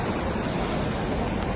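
Waterfall in the Langouette gorges pouring into a deep 47-metre rock basin, a dense continuous roar of falling water filling the short moment without a break.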